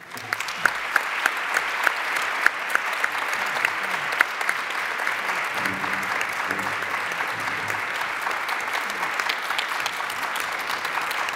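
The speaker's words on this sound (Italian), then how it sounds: "meriti un grande applauso che io oggi vi chiedo di ripetere per il dottor Giovanni Giaroli" An audience at a symposium on neurodiversity and autism in childhood gives sustained applause for Dr. Giovanni Giaroli, a steady roar of many hands with a few sharper individual claps standing out.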